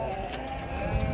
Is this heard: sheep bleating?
yes